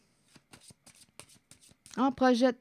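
Tarot cards being shuffled, a soft riffling patter under quiet talk from a woman, followed by a louder spoken phrase.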